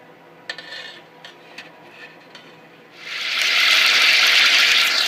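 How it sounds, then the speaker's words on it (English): Turkey fat sizzling vigorously in a pan while gravy is made, a loud, steady broadband hiss that swells in after a few light clinks of cookware and then holds strong. "We're heating up the fat right now, and as you can see, it's sizzling rather vigorously."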